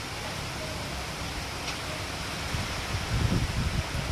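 Heavy monsoon rain and strong wind on an Andaman night make a dense, steady wash of broadband noise that grows slightly louder toward the end. No voices are heard.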